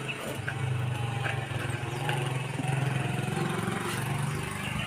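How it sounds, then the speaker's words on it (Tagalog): A motorcycle engine drones on a roadside, a mid-pitched hum that swells a little as it passes, fairly faint under outdoor background noise. "Ayan na, ayan na. Ayan yung motor."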